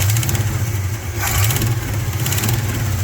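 A Chevy V8 on its original ignition runs rough and barely keeps going, a loud, close, uneven low rumble with a slight dip midway.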